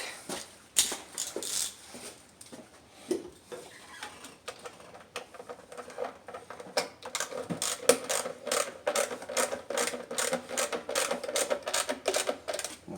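A ratchet wrench with a 12mm socket turns a spark plug on a 2010 Nissan Sentra, giving bursts of rapid close clicking that keep speeding up and slowing down.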